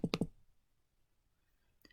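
A quick burst of three computer mouse clicks selecting on-screen items, close and crisp, followed by near silence and one fainter click at the end.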